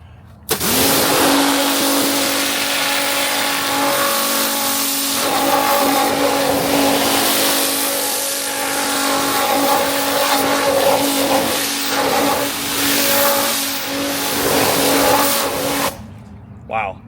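Giraffe Tools UltraFlow 1000H pressure washer spraying a vehicle frame with light surface rust, a loud steady hiss that starts abruptly, runs for about fifteen seconds with slight wavering, then cuts off.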